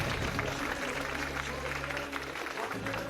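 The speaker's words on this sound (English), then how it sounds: "Some great fans out there cheering so loud for their favorite players." Studio crowd at a GSL 2019 Season 2 StarCraft esports grand final, a dense roar of cheering and applause filling the packed room, steady and loud throughout with a low hum underneath.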